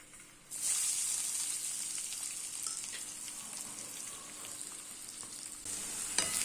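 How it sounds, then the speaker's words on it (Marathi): Finely chopped onions hit hot oil in a kadhai, setting off a sudden loud sizzle that settles into steady crackling frying with occasional stirring clicks, close up and without talk. "तेल तापलं की यामध्ये बारीक कापलेले कांदे घालायचे आहेत।"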